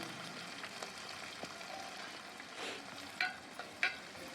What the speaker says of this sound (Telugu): నెత్తాలను కూడా వేసి గోల్డెన్ బ్రౌన్ కలర్ వచ్చేలాగా వేయించుకోవాలి